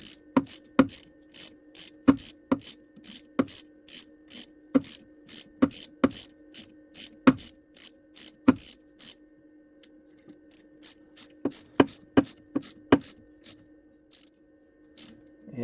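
Aluminum RMAX 1000 air injection block-off plate being turned hand tight, producing a long series of sharp, close ratcheting clicks in quick bursts with a brief pause midway; no voices.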